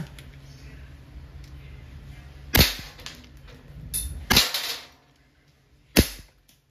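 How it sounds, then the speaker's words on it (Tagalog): A full-metal Twin Gun 702 toy revolver with a 6-inch barrel fires steel balls in single and double action, giving three sharp, loud cracks spaced about a second or more apart over a faint low hum. "steel ball po ang gamit natin. Single action po yung gamit natin. Firing. Double action."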